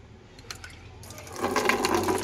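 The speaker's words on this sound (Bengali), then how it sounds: "তো দেখি একটু জল দিয়ে দিই।" Water poured over potted garden plants freshly fed with rotted oil-cake fertilizer, starting as faint splashes and building into a steady, louder gush of splashing liquid that runs to the end.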